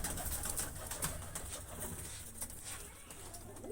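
Faint pigeon coos drift through steady background noise around new coops, low and indistinct, with no voices.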